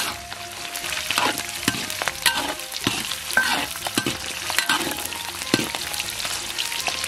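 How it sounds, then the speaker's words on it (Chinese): Scallion, ginger and garlic stir-fry in rendered pork belly fat in a large pot, a loud, busy sizzle with repeated scraping strokes of the spatula throughout, no voices. "下上葱姜蒜爆香。"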